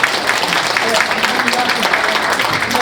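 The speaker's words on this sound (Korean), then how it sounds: "크게 박수 한번 쳐주세요" Applause from a large audience at a civic public forum on choosing a reserve-forces training ground site, steady dense clapping throughout with murmuring voices mixed in.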